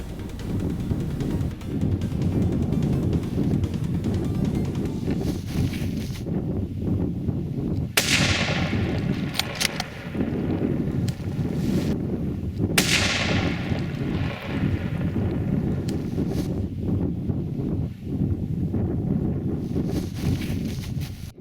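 A hunting rifle shot at a woodland caribou stag from long range outdoors, two sharp cracks standing out over steady wind noise.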